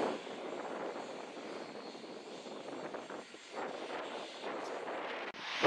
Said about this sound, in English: I thought this was a great place to watch the planes take off and land for you all to see.